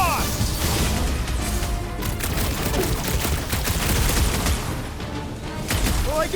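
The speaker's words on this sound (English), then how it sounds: "I'll lay down some cover fire to get you across!" Rapid gunfire crackles nonstop in the Guardians of the Galaxy video game, loud dense bursts layered with impacts and crashes over a constant low rumble.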